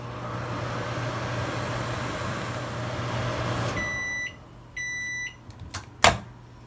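A microwave oven hums steadily at reduced cook power, then the hum cuts off and a series of electronic beeps sounds, followed by a door clunk, with no talking.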